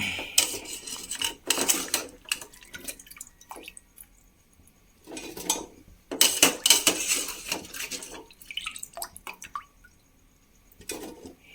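Washed jackfruit pieces dropped into a pressure cooker, with bursts of metallic clinking and clattering of the pot and utensils, separated by quiet pauses, close by.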